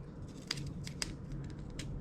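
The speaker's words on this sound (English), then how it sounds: "I'm just going to trim them so they're pretty even with one another" Scissors snip through cardboard bird cutouts being trimmed even for a wall art craft, three or four crisp, close cuts spaced about half a second apart over quiet room tone.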